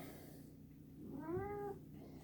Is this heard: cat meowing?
yes